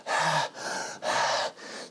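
A person panting into a microphone, mimicking a singer out of breath on stage: four loud, close breaths alternating in a quick, even in-out rhythm with no talking.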